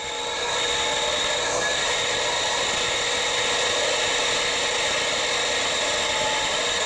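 A bandsaw steadily cuts out a dragster design from a wooden block, giving a loud continuous mechanical whine with a high ringing tone that holds even throughout, with no pauses and no talking.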